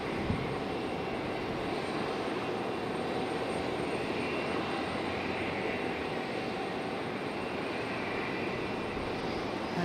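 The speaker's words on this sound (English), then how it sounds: "Nice smooth touchdown for the CRJ." A Delta Connection CRJ jet touches down at Raleigh-Durham, its engines producing a steady, continuous roar at a moderate distance, with no voices.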